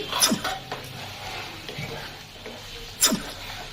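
A metal lid is lifted off a cooking pot of simmering prawn curry with a couple of sharp clinks, the first near the start and a louder one near the end, over a low kitchen background.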